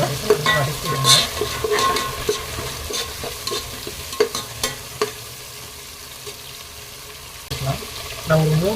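Onions cooking with ginger garlic paste in a pan for chicken biryani, with steady sizzling under repeated scraping and stirring strokes from a utensil, close and moderately loud, and a brief murmur of a voice.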